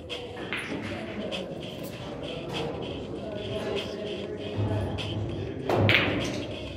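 Pool balls knocking together during a shot on the 6 ball in a professional pool match, a few sharp clacks with a louder strike near the end, set against crowd murmur and talking.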